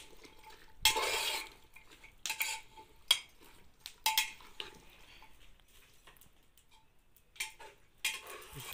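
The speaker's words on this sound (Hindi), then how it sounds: "ये फ्राई हो रहे हैं और अच्छे से मिक्स कर लेते हैं तड़के के साथ इनको भी।" A spoon scraping and clinking in a pan as green peas are stirred and fried with spiced tempering for a village pulao, irregular close bursts of metal scraping with quiet gaps and no talk.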